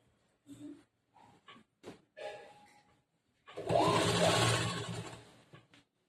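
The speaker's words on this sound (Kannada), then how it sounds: "ಈ ತರ ಫುಲ್ ನೆಕ್ ಹೊಲಿಗೆ ಹಾಕ್ತಾ ಬರಬೇಕು" An electric sewing machine runs one steady burst of stitching around the neck of an A-line kurta, loud and close, preceded by a few short clicks and handling knocks.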